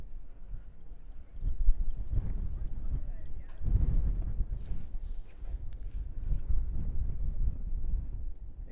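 Strong wind buffets the microphone at an outdoor youth soccer match, a steady low rumble with gusts that swell and fade under a commentator's voice.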